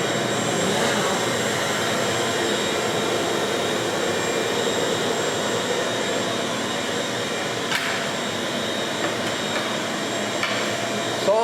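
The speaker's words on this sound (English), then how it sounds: "it runs the vacuum without the saw being on" A woodshop dust collector vacuum runs on its own with the SawStop table saw switched off, giving a steady, loud, unbroken roar with a few faint clicks near the end.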